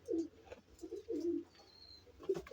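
Pigeons in a coop coo softly in low, rounded repeated notes, faint and close in a quiet space.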